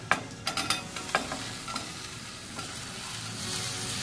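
Tomatoes frying in a pan with green chili and garlic for a Maharashtrian tomato chutney, a continuous loud sizzle with several sharp scraping and stirring knocks early on.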